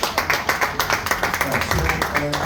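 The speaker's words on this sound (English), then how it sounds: "Can we have a round of applause?" A small group claps at a send-off gathering of middle-management colleagues on International Men's Day, the individual claps distinct and fairly regular, close by and moderately loud, with a voice faintly audible beneath.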